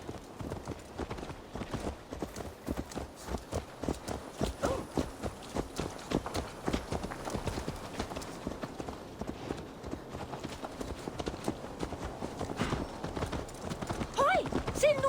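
Horse hooves clip-clopping at a walk in Assassin's Creed Valhalla, a steady rhythmic run of close, clear hoof strikes lasting the whole stretch, with other game sounds around them.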